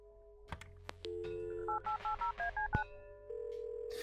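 A telephone dialed in the Kathy Rain video game: a short run of about eight distinct touch-tone beeps in quick rhythm, set against a steady dial tone, clear and alone with no voices.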